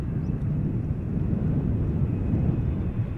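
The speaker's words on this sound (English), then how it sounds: "KLM arriving from Delhi" KLM Boeing 777-300ER arriving at Schiphol from Delhi, a steady broadband jet roar held at an even level throughout, moderately loud with no voices.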